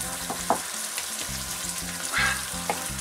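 Pepper shrimp, king prawns cooked with lemon juice, sizzle and fry steadily in a pan with a dense crackle and occasional stirring scrapes, close and unbroken, with no talk.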